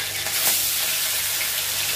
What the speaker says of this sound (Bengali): তার আগে পাঁপড়গুলোকে ভেজে নিচ্ছি